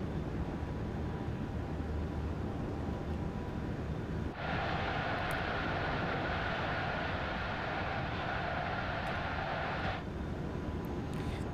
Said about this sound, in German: der Sound ist ja auch original von der Baureihe 425